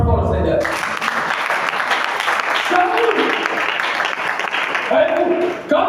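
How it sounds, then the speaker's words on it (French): Church congregation applauding loudly and continuously, a dense wash of clapping that carries on throughout while voices speak and call out over it. "Acclamons très fort le Seigneur."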